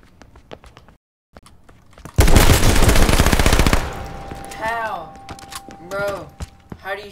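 A gun fires rapidly in King of the Kill gameplay: a loud, dense burst of rapid shots lasting about a second and a half, then quieter game sounds while a voice talks.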